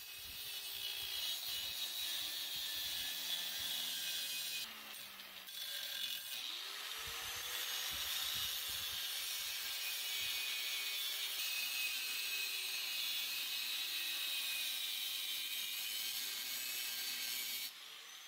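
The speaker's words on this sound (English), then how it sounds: "we'll use an angle grinder with a cutting wheel to cut out" An angle grinder with a cutting wheel cuts a hole into a metal pipe, a loud, close, sustained high-pitched grinding whine that drops out briefly twice and then runs steadily to the end.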